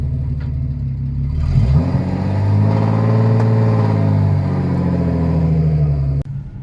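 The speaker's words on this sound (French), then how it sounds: "on va voir ce que ça donne en roulant avec. Ça glougloute, ça chante bien hein." A 1992 Audi Coupé Quattro V6 drives along, its engine burbling low and rising smoothly as it pulls away, a steady close rumble inside the car that drops off abruptly at the end.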